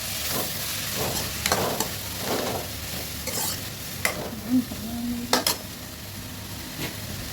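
Cluster beans sizzle steadily in a hot pan while a utensil scrapes and stirs at intervals, with occasional louder clinks against the metal.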